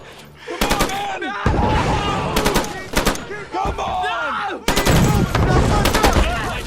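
Machine guns fire overhead during a military training exercise, with rapid bursts of gunfire crackling in several loud, close volleys separated by short gaps, mixed with shouting voices.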